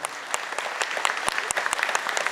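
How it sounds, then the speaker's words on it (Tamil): A congregation claps together at a church feast-day Mass at a Lourdes shrine, a dense, steady burst of many hands with sharp individual claps standing out, filling the room without any talk over it. "எல்லாம் ஒரு வாட்டி நல்லா கைத்தட்டி ஒருத்தர் வாழ்த்துப்போம்"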